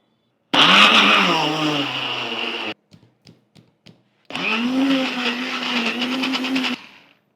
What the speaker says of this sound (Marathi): आता हे मी मिक्सरला फिरवून घेते